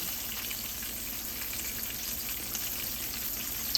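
King fish, dumplings, banana and yam fry in hot oil, a steady close sizzle that keeps an even level from start to end.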